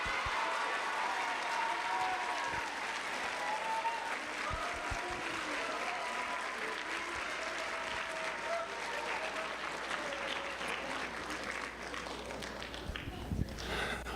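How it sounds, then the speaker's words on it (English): Students in a classroom clapping and cheering loudly for their teachers, a dense sustained burst of applause with shouts mixed in, tapering slightly and ending with a few scattered claps. "So I want you to just cheer as loud as you can for your teachers and say thank you"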